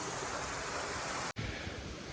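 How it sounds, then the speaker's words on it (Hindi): Mill water from a traditional watermill that grinds flour pours straight into a river on a remote Nepal trail, a steady close roar of rushing, splashing water that breaks off abruptly for an instant before carrying on. "और पानी फिर सीधा इधर से नदी में चला जाता है।"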